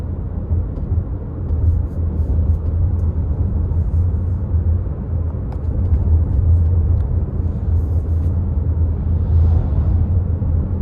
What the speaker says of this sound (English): on this rougher stretch of road here going through this industrial complex, it's a tad bit loud, just how the sound comes through the tires, the wheels.